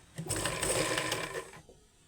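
A sewing machine stitches fabric in one steady, fairly loud whirring run of about a second and a half, then stops abruptly into near silence.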